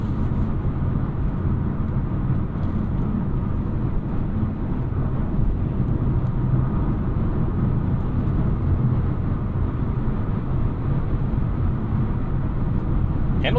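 Steady low road and tire rumble inside the cabin of a 2024 Chevrolet Trax 1RS cruising at highway speed, a continuous dense drone with no talking over it.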